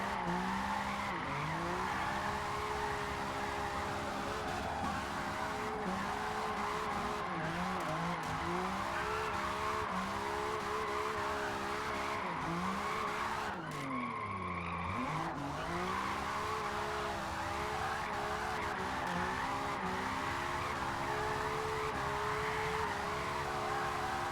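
Tires of a drift car squeal and skid continuously under engine roar during repeated runs meant to wear the tires out, a loud sustained wail with pitch dips and surges throughout.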